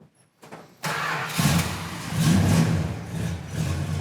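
1986 Buick Grand National with stock exhaust starting up: a short click and starter crank, then the engine catches and settles into a rough, rising idle, close by with no talk.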